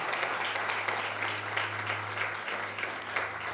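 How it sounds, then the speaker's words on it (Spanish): Congregation applause in a church service, honoring God for a woman named Carolina: a steady, dense wash of many hands clapping, loud and even for the whole span. "Démosle un aplauso a Dios por Carolina"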